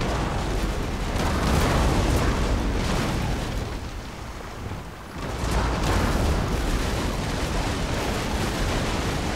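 Guns fire and explosions roll continuously in a war video game, a dense loud barrage of booms and blasts that eases briefly midway before surging again, with no talk.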